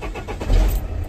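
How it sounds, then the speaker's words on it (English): A Massey Ferguson tractor engine catches with a short, loud, low-pitched burst and a rumble close by, lasting about a second. "We'll start it up. We're starting the engine."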